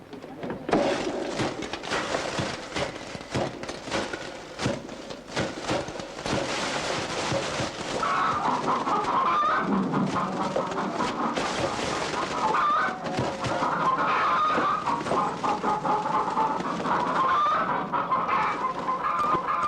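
Chickens cluck and squawk steadily and fairly close, with a rooster among them and rustling movement, in a rural farmyard setting in a Turkish film scene.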